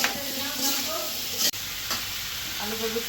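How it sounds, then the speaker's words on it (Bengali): Steady, close sizzling of potatoes frying in a hot karahi, with a few stirring scrapes breaking through the continuous hiss. "তো আলুটা একটু ভাজা ভাজা হোক"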